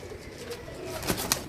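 Ferozpuri Golden Teddy pigeons at close range, soft cooing with a couple of quick wing flaps near the end, brief and fairly quiet.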